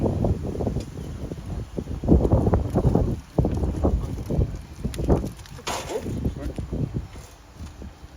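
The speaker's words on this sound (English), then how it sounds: "So windy." Gusty wind buffets the microphone outdoors, producing irregular low rumbling bursts that swell and fade, with a voice briefly speaking.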